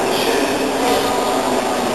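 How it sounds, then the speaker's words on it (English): Train station ambience, a dense, steady roar of rail noise and echoing hall rumble that fills the space loudly and evenly throughout. "I am in the train station, all on my own."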